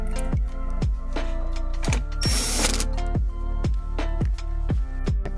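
A ratchet clicks in a fast, steady rhythm while driving the side mounting screws of an aftermarket stereo unit in an Infiniti Q50 dashboard, close and loud, with a brief rustling burst midway and no talking.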